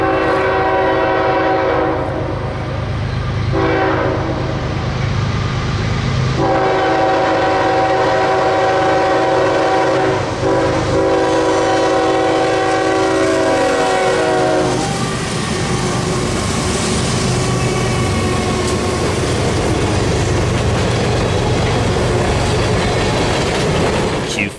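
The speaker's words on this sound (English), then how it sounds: "Q514 was heading northbound towards Birmingham, with a trio of ES44DC engines and an SD40-2 last out in the power consist." Northbound manifest freight train Q514, led by three ES44DC locomotives with an SD40-2 trailing, passes close by with a loud sustained horn, then roaring engines and rolling wagon noise that fills the scene.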